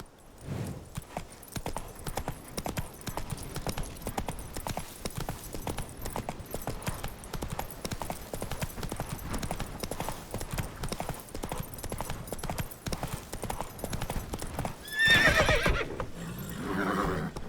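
A horse in The Witcher 3 video game gallops with rapid, steady hoofbeats for most of the stretch, then a short neigh near the end before the pace eases.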